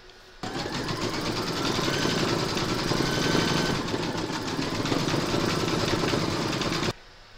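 An embroidery sewing machine stitches an appliqué turkey placemat round, starting abruptly and running as a steady, close mechanical whir with rapid needle clatter for about six seconds before stopping.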